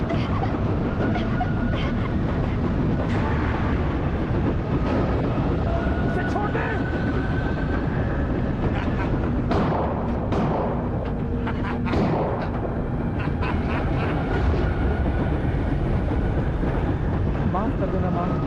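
A train running on rails, a loud continuous rumbling roar with rattling and occasional clanks, with voices speaking throughout over the noise.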